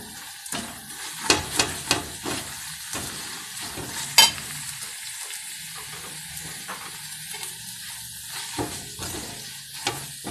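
Pancit canton instant noodles are stirred and mixed in a pan, with scraping utensil strokes and soft clatters in an irregular rhythm over a faint sizzle, close and without talk.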